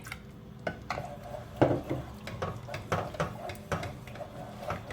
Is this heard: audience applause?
no